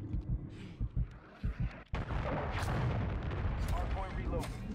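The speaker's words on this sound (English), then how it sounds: "Hostile cruise missile incoming." After a few short thuds, a cruise missile explosion in Call of Duty MW3 erupts into a sustained loud roaring rumble, with voices talking over the game.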